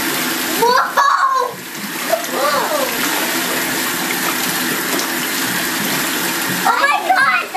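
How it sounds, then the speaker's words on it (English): Dry ice drops into bathtub water and melts fast, giving a steady bubbling, fizzing wash with splashes near the start and end; voices talk over it. "Melts pretty quick falling in the water like that."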